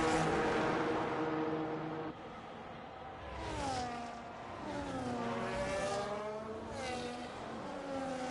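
Race cars in the F1 25 video game lap the Mexican Grand Prix circuit, their high-pitched engines rising and falling steadily with gear changes and passes. The sound is continuous and moderately loud, with no talk.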